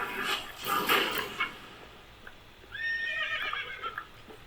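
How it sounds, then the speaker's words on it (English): Horse in Minecraft neighing with a bright, wavering whinny in the second half, after louder mixed game noise and brief voices at the start. "Let's not bring the horse in here."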